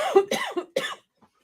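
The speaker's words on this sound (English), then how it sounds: "I haven't coughed all day and now all of a sudden I'm coughing" A woman gives three quick harsh coughs in succession, close and fairly loud, ending with a faint trailing sound.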